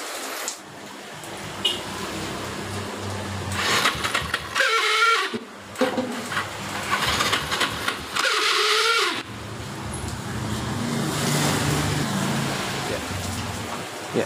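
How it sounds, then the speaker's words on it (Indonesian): Several loud bursts of a Yamaha Xeon motorcycle's noisy starter motor cranking and grinding without the engine starting, separated by pauses, over a steady background rumble. Nearby clatter comes and goes. "ini suara berisik diperkirakan dari dinamo starter"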